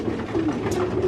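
Pigeons coo in a loft fitted with nest boxes, a soft, continuous low warbling of several birds close by, with no talking.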